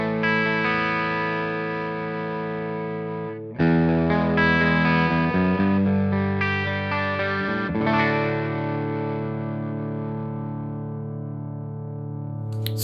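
A clean electric guitar tone through the Safari Pedals Silver Llama vintage amp plugin rings out in sustained chords and picked notes, with a brief break before more strummed chords that fade out at the end.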